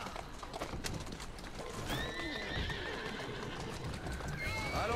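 Horses pull a heavy carriage through streets in Assassin's Creed Syndicate, hooves clopping steadily under a dense rolling rumble, with a horse neighing midway and again near the end.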